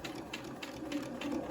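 A sewing machine stitches fabric with cream thread in quick, even rhythmic pulses, a steady close mechanical whir and tapping with no talking over it.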